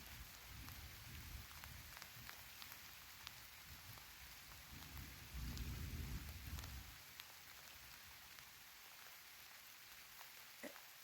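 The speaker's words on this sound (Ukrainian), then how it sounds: "Дощ усилюється." Rain patters densely on leaves and ground in a forest of young oaks, maples, hazels and hornbeams, a steady hiss dotted with distinct drops, swelling into a heavier, deeper downpour midway before settling back.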